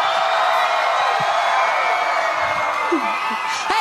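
A large crowd in Afghanistan cheers and whoops for an Australia Day celebration concert. The loud, dense roar of voices holds throughout, with a rising whoop near the end, and talk sits partly within it.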